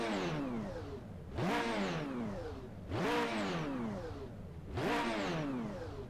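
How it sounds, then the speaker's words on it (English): Car engine with a diesel-like tone in the Project Cars racing game, revving up and dropping back three times in a steady cycle, each rise sweeping up sharply in pitch before falling away, moderately loud with no talk. "Sounds like a diesel."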